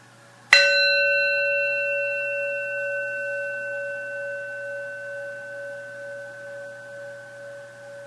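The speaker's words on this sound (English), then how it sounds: "I'm going to sound the bell to let you know that we're getting ready to enter the magic of a story" A single bell is struck once, ringing out clearly and sustaining a long, slowly fading tone with a gentle wavering shimmer.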